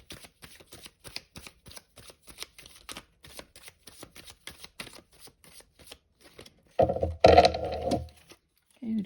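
Tarot cards shuffled by hand: a quick series of crisp, close riffling snaps for several seconds, then a louder burst of shuffling rustle near the end.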